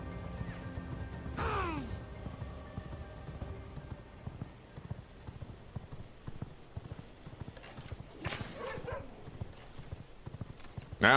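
A horse galloping in the video game V Rising, a soft rapid clip-clop of hooves running steadily throughout at moderate distance, with a brief whinny-like cry near the start and another sound later.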